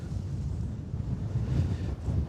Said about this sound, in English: it's incredibly windy at the moment